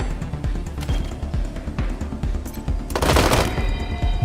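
Automatic gunfire in the turn-based combat game Wasteland 3: rapid close bursts of shots rattle in quick succession, ending in a louder, denser volley near the finish.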